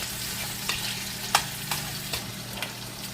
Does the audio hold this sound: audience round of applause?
no